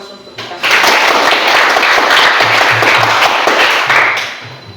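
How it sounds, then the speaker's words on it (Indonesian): A classroom of students bursts into loud, dense applause that starts suddenly, holds steady for several seconds and then tapers off, with a voice faintly underneath. "Berikan aplaus untuk kita."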